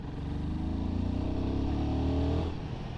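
A Royal Enfield Guerrilla 450 motorcycle pulling away in third gear, its engine a steady, loud, near thrum whose pitch climbs gradually over a few seconds before easing off at the end.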